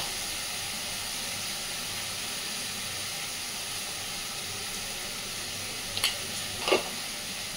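Spice paste with turmeric and chilli powder frying in a pan for a fish curry, a continuous soft sizzle and hiss with a couple of brief stirring knocks near the end, no voices.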